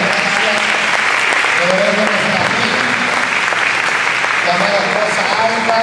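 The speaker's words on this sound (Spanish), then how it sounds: "Gracias para Jesús ese aplauso." Sustained applause from a church congregation at a youth revival camp, dense steady clapping filling the whole stretch with voices mingling in the crowd.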